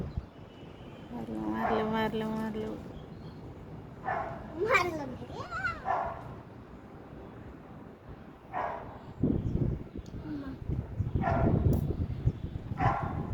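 A dog barks in a few scattered bursts, some drawn out, chasing a langur monkey, mixed with people talking nearby.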